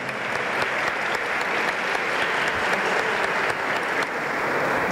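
Audience applause at the Prêmio Melhores Empresas 2017 awards ceremony in São Paulo, a thick, steady wall of clapping from a large crowd filling the hall for five seconds without talk.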